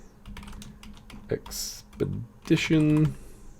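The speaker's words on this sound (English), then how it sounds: "So I'm going to type in Cabela's Hunting" A computer keyboard clicks as a search is typed, with quick, uneven keystrokes at close range. A brief voice is heard near the end.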